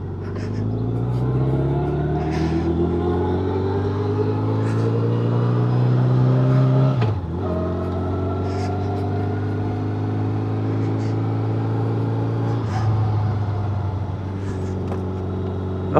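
1987 Honda GL1200 Gold Wing motorcycle riding, its engine droning steadily with smooth rising pitch through gears, a shift break mid-way, and wind rush from the rider's perspective, recorded with a DJI microphone.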